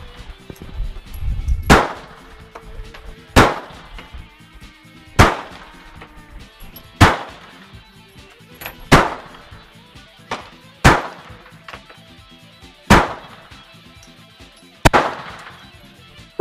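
A VZ61 Scorpion submachine gun fired outdoors as single shots, nine sharp loud reports at roughly even intervals of about two seconds, each with a short decaying echo.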